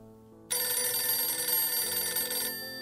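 A telephone bell starts ringing abruptly and keeps up a loud, steady metallic ring for about two seconds before easing off, alone and without talk.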